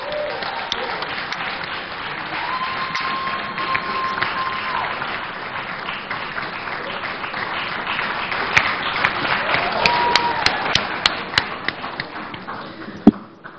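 An audience at an induction ceremony for newly admitted architects applauds an award-winning candidate, steady clapping across the hall with a few sharper individual claps rising near the end, and faint voices underneath.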